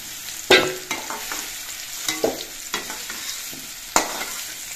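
Chopped coconut pieces frying in a pan, a continuous sizzle broken by several sharp scraping stirs of a utensil against the metal.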